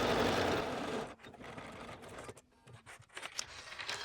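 A sewing machine top-stitches a folded one-inch edge on a Cashmerette Stanton hoodie, giving a loud, steady mechanical whir for about a second before it stops and leaves softer handling clicks and rustles.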